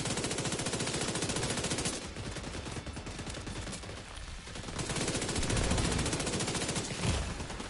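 Sustained AKM rifle fire in The Division 2 shooter game: dense, rapid automatic bursts running almost continuously and loud, with a brief lull midway before firing resumes.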